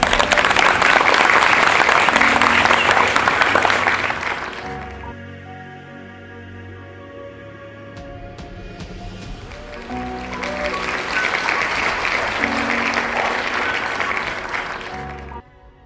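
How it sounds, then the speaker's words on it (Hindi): A village gathering breaks into loud applause, a dense burst of crowd clapping that fades into a quieter pause with music, then swells again into a second strong round of clapping. "तो जोरदार तालियां हो जाए।"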